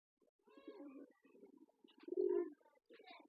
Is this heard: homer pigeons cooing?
yes